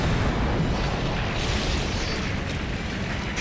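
A fire spell called Prominence erupts in the role-playing game Hexyz Force, a loud, continuous roaring blast that fills the whole moment and fades slightly toward the end, with no talking over it.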